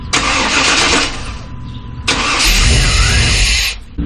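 A Chevy OBS pickup truck engine cranks and fires, then is cut off and started again, two loud close bursts of engine noise with a brief lull between, no talking.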